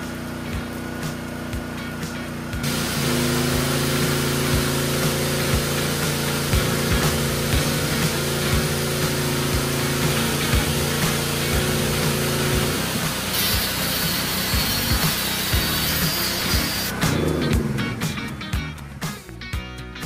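A PK160A inverter welding generator's small engine runs steadily after an easy start at a low amperage setting, a loud continuous drone with mechanical rattle that holds for most of the span before shifting and sputtering near the end.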